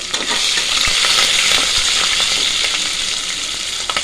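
Three green chillies drop into hot oil with ginger-garlic paste and burst into a loud, dense sizzle and crackle that carries on steadily for a few seconds, with a few sharp pops.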